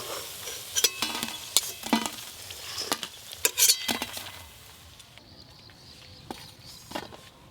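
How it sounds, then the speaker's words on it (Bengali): Pumpkin flower fritters frying in mustard oil, with repeated close clinks and scrapes of a utensil turning them in the pan over a soft sizzle, heard without speech. "কুমড়ো ফুলের বড়াগুলো উল্টে পাল্টে ভালো করে ভাজা হয়ে গেছে।"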